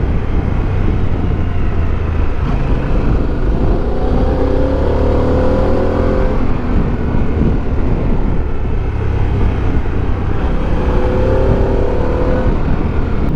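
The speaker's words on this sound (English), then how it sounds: "that roar of the engine when you pull off as well" A Harley-Davidson Pan America 1250 Special roars while being ridden, a loud, steady engine drone mixed with wind rush, with rising revs swelling under it at a couple of points.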